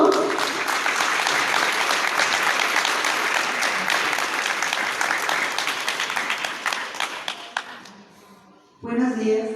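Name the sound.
audience applause welcoming the speaker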